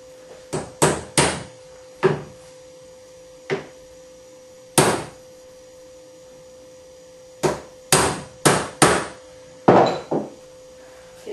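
Sharp hammer strikes ring out while fitting a shaft during a modding job, coming in quick bursts of three or four blows separated by pauses, close and loud over a faint steady mains hum.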